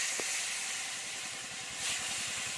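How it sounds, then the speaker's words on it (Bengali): Fresh pond fish frying in hot oil for a sour-spicy mango fish curry, a continuous loud hiss and crackle that holds steady for the whole stretch, no talking. "মাছটা আমি এবার ভেজে দিচ্ছি তেলটা গরম হয়ে গেছে"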